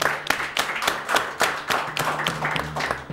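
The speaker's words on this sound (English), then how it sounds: "Let's give her a round of applause" Brief round of applause for a spelling-quiz contestant, a small group clapping with uneven, overlapping claps that stay fairly close and moderately loud for a few seconds, with some low background hum.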